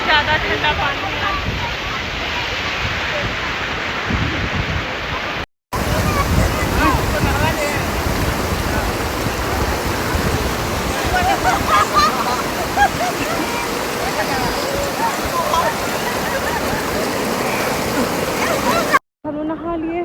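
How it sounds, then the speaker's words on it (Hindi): Fast, cold river in Nepal rushing steadily in a loud, continuous broadband roar that fills the whole stretch, briefly cut out twice. "इतना इस नदी में तेज़ बहाव है"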